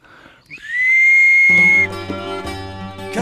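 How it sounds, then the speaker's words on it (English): A single sustained whistle blast, loud and steady for about a second, followed by a burst of musical tones. "And then we have a whistle."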